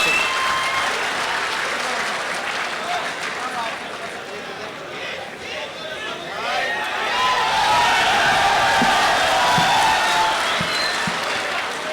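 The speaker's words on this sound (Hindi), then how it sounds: "जोरदार तालियों के बीच" An audience at a mushaira, an Urdu poetry recital in Jeddah, breaks into loud, sustained applause, a dense wash of clapping that swells toward the end, with a voice speaking over it.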